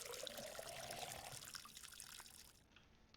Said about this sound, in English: let's pour some water here